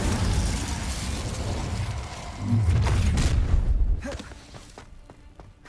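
Incendio fire spell cast in Hogwarts Legacy: a loud, dense burst of booming, crackling fire and thuds swells at the start and surges again midway, then trails off into scattered impacts.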